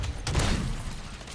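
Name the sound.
MORS sniper rifle shot in video game Modern Warfare III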